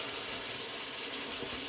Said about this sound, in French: Pas de l'eau froide, je vais avoir cette eau chaude.